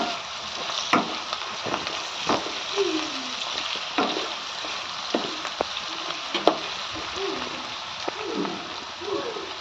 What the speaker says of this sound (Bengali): যতক্ষণ না ব্রাউন কালার আসছে পেঁয়াজটা ততক্ষণ এরকমভাবে হালকাভাবে নেড়ে চেড়ে নিতে হবে